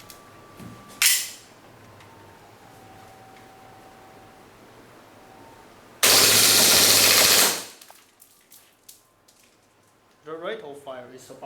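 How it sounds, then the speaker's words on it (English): A WE G18C airsoft gas pistol with a stainless steel CNC slide, loaded with 0.2 g BBs, fires a loud, rapid full-auto burst of about 15 rounds per second lasting under two seconds, following a brief earlier shot-like burst, with a voice talking near the end. "The rate of fire is about 15 rounds per second."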